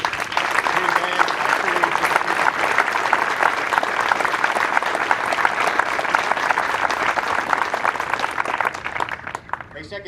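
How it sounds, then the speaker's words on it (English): An audience at a Marine Corps Officer Candidates School graduation ceremony applauds the Quantico Marine Band, a loud, dense and sustained clapping that carries evenly for several seconds before tapering off at the end. "please join me in a round of applause for the Marines from the Quantico Marine Band."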